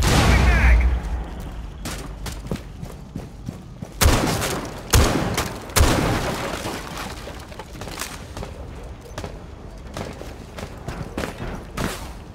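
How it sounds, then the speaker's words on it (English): A frag grenade is thrown and detonates in Rainbow Six Siege on the Consulate map: several sharp, heavy blasts arrive close together near the middle, followed by scattered smaller impacts and clatter. "Throwing frag grenade."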